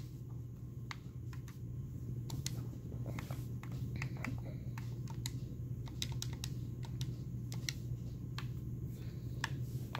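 Rapid, uneven clicking of keys on a computer keyboard continues throughout, close and fairly quiet over a constant low electrical hum.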